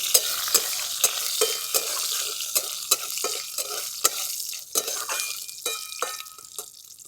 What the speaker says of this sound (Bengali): ফোড়নে দিয়ে দিচ্ছি গোটা জিরে, তেজপাতা আর শুকনো লঙ্কা। ফোড়নটা একটু ভাজা ভাজা করে নিচ্ছি।